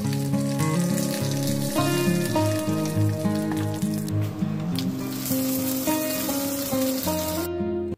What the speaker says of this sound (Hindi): थोड़े से करी पत्ता डाल के फिर उसके बाद मैंने लगाया है चटनी में छौंका।